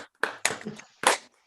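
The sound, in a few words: online meeting panelists clapping into their microphones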